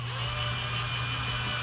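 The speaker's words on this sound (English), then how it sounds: "So we're going to go with the 1/8 inch drill bit and see what happens here." A power drill with a 1/8 inch bit bores into a wooden wall stud, giving a steady close-up motor whine that holds at an even level for the whole short stretch, with no voices.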